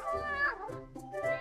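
A cat gives a drawn-out, close meow followed by a shorter second meow after a brief pause, clear and alone without talk.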